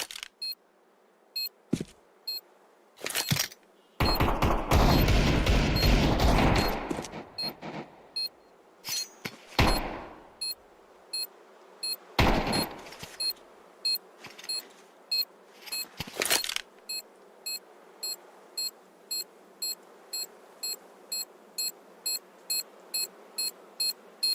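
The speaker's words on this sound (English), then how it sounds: "Bomb has been planted." A planted bomb in a competitive shooter game beeps in a steady, evenly spaced rhythm that quickens toward the end, broken early on by a few louder bursts of gameplay noise.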